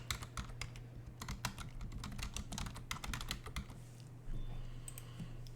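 Rapid keystrokes on a computer keyboard while a Linux package command is typed, a close, crisp run of clicks with brief pauses under a steady low electrical hum.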